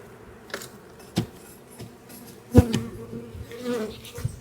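Honey bees buzz around a swarm trap, a faint, steady hum close by with a few brief louder passes and soft knocks.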